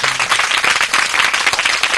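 Dense, steady clapping from a gathered crowd of adults and children at a flood relief camp, loud and close, filling the whole short stretch without pause.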